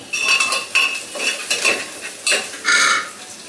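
Chili and onion frying in a pan while being stirred: a spoon scrapes and clinks in repeated strokes over a steady sizzle, close and fairly loud, with no voices.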